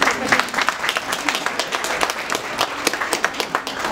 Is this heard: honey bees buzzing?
no